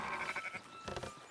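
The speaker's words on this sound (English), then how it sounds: "Fine sheep." A sheep bleats in Red Dead Redemption 2, a short wavering nasal bleat heard close and fairly faint against quiet outdoor ambience, with no talk over it.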